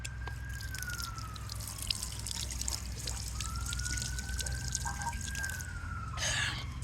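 A drinking water fountain runs in a steady trickling stream, with small drips and splashes over a constant low hum, close by and fairly quiet, with no one speaking.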